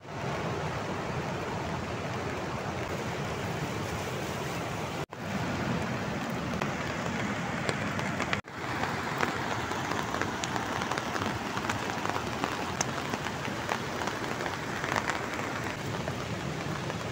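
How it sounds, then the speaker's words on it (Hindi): Heavy, steady rain from a severe rainstorm pours down at a campsite in Uttarakhand in a dense, loud hiss with constant drumming on a surface, no voices. "बारिश क्योंकि बहुत तगड़ी हो रही है अभी"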